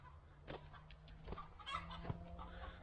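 Chickens cluck in a coop area, short scattered clucks at close range over a low steady background hum.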